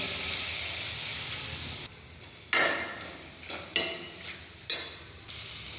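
Chicken masala sizzles steadily in a hot pan, then several sharp bursts of frying hiss follow as it is stirred, close and loud.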